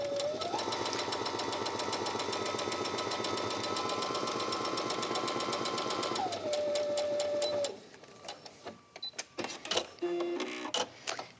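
A sewing machine stitches fabric pieces for a quilted tablet cover, running at a fast, steady mechanical rhythm for several seconds before slowing and stopping, followed by a few scattered clicks and taps.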